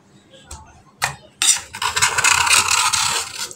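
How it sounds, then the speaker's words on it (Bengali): Knife scraping around the edge of a stovetop-baked tutti frutti pound cake in its pan, a close, steady rasping scrape after a few short scratches. "তার জন্য একটা ছুরির সাহায্যে এভাবে চারপাশ দিয়ে একটু কেটে নেব।"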